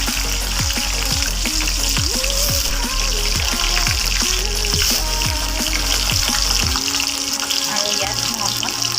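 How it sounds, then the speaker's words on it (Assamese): Cumin seeds, two dried red chillies and cut potatoes fry in hot oil with a loud, continuous close sizzle and crackle, while a person talks over it throughout. "গৰম হোৱাত মই ইয়াত কেইটামান জিৰা আৰু দুটা শুকান জলকীয়া এড কৰি দিম আৰু লগতে কাটি ৰখা আলু কেইটা"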